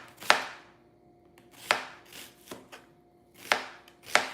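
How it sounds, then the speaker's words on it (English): A knife chops an onion on a cutting board for okra soup, sharp, irregular close-up knocks with quieter taps between them and no talking. "I'm just going to chop the onion and put them inside the pot"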